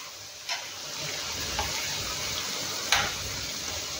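Strips of bottle gourd skin and parijat leaves fry in oil in a pan over medium flame, a steady close sizzle with a few faint clicks and pops.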